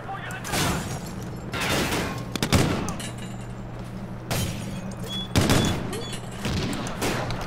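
Gunfire and explosive bursts in the shooter game Call of Duty: Ghosts, loud repeated volleys and booms over a steady low hum, with characters' voices shouting between the shots.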